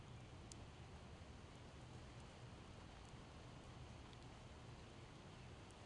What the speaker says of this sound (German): Es regnet schon wieder. Natürlich regnet es.